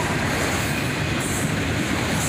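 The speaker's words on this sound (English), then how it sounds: "3 locomotives on the head end with a nice mix of power. We have an ET-44AH leading, followed by an SD-40-3 rebuild" A CSX freight train passes close by and loud, led by an ET-44AH locomotive followed by an SD-40-3 rebuild and an SD-42, its wheels rumbling with a steady clatter and a faint squeal.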